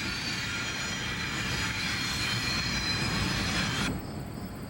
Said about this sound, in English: Conrail number 6021, a C39-8, heads a southbound train near the Federal number 2 mine